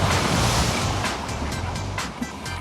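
Ocean waves and surf at Bondi Beach, a loud, steady roar of breaking water with repeated splashy surges and wind buffeting the microphone, heard close and alone without voices.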